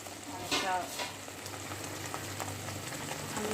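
Fish masala with tomato sizzles steadily in a pan, a continuous frying hiss broken by soft scraping and stirring strokes, close and moderately loud throughout.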